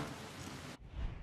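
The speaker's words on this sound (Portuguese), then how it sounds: "A chuva caindo aí, ó." Heavy rain pouring in the Far Cry 6 video game, a dense loud hiss that abruptly drops to a softer, lower rumble of rainfall partway through.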